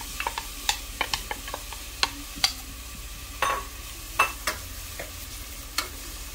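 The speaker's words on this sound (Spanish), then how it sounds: "Vamos a poner a sofreír el chile y la cebolla." Chili and onion sauté in oil in a frying pan with a soft, steady sizzle, while a spatula taps and scrapes the pan in quick, uneven clicks close by.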